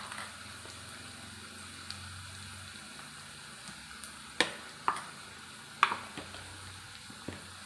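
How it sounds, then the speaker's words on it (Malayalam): Onions with chili powder being stirred in a pan over reduced flame, soft continuous frying sizzle with faint, scattered scrapes and taps of the spoon, quiet and close, no talk. "നല്ലോണം ഒന്ന് ഇളക്കി കൊടുക്കാം"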